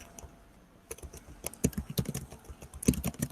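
Close typing on a computer keyboard: irregular bursts of crisp keystrokes that start sparse and grow denser and louder, with no talk.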